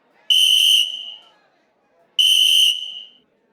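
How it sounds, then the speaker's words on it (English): Two sharp, shrill whistle blasts, each about half a second long, separated by a short pause and ringing loudly against a quiet background. "right then, the Cinderblock blew the whistle again"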